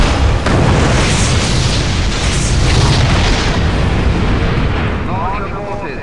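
A missile explodes in the Return to Castle Wolfenstein video game, producing a loud, sustained roaring blast with heavy rumble that holds for several seconds before easing slightly.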